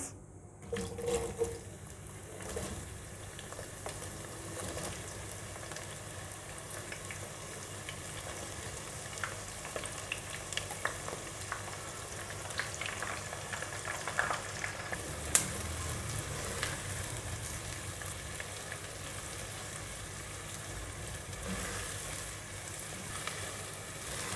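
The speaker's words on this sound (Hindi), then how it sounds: "ऑयल हमारा गरम हो चुका है। अब इसके अंदर हम डालेंगे प्याज।" Sliced onion fries in hot oil for chicken biryani, producing a faint, steady sizzle with occasional light clatter and stirring.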